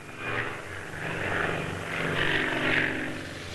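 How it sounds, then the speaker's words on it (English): A de Havilland Canada Turbo Beaver or Twin Otter utility transport plane flying at the 1966 Farnborough air show, a steady turboprop drone with a swelling whine, moderately loud and continuous, no voices. "De Havilland of Canada display their Turbo Beaver, utility transport for 10 passengers or a ton of cargo, and the Twin Otter"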